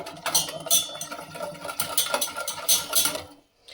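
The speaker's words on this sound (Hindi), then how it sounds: "अच्छे से इसे हम मिक्स करेंगे" A spoon stirs agar agar powder and water in a metal pot, giving steady scraping and clinking strokes close up for a few seconds, with no voices.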